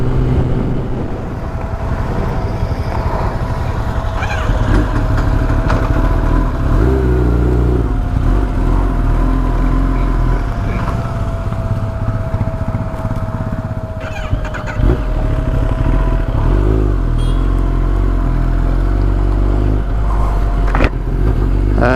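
A Kawasaki ZX-10R sportbike cruises along an open road on an early morning ride, its engine a steady, loud drone with wind roar throughout and a faint sustained whine, no talk.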